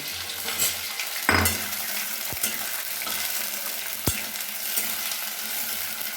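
Fried potatoes stirred in hot oil for a Bengali prawn and morcha ghonto: steady close sizzling with a few sharp spoon scrapes and knocks against the pan, no voices.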